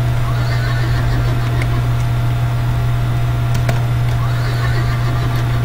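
A horse neighs in a Wild West video game, heard over a steady, loud low hum with faint background noise.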